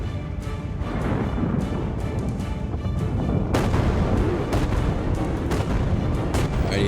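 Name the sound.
cannon fire in the video game Lost Skies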